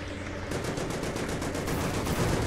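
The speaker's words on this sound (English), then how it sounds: "There's so many panzers. Panzers, stop firing!" Dense, continuous tank cannon and automatic gunfire from a battle in the video game Ravenfield, with rapid overlapping shots and bursts forming a loud, sustained barrage throughout.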